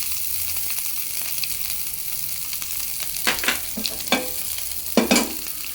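Curry leaves and coriander sizzle in a tempering pan for puliyogare rice, a steady soft frying hiss with a few sharper crackling bursts near the end, close by and with no talking.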